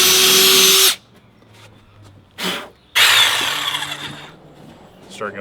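A power drill boring a starter hole for a jigsaw in a wood board for cornhole boards: two loud, close whirring bursts separated by a short pause, with a brief blip in between.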